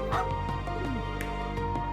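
A dog barks and yips in the video game Trails into Reverie, several short bow-wow calls over a steady bed of game music.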